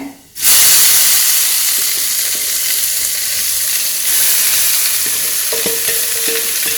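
Thuvara (pigeon pea) mix tipped into hot coconut oil with popped mustard seeds, erupting into a loud, steady frying sizzle and hiss that holds for several seconds, with faint stirring underneath and no voices.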